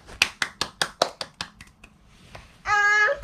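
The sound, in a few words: hands clapping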